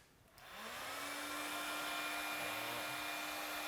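A heat gun blowing hot air onto window film to shrink it, starting after a brief quiet moment and then running as a loud, steady, close rush with a faint constant whine.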